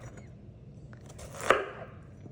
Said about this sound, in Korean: 애호박은 2, 3cm 두께로 도톰하게 썰어서